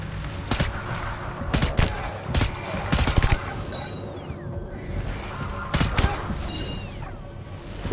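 Suppressed gunfire in Death Stranding, a scattered series of sharp muffled shots in short irregular bursts, with faint descending whistles between them.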